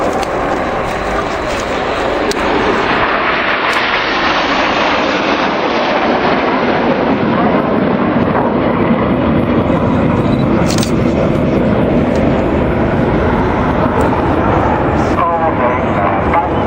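Red Arrows display jets sweep past at the Fairford airshow, producing a loud, sustained broadband roar that swells and fades as they pass overhead, with an announcer's voice over the noise.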